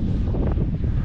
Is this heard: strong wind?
yes